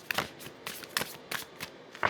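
Tarot and oracle cards being shuffled by hand in a quiet room, several short papery riffles and flutters in separate bursts, close and fairly soft, with no talking.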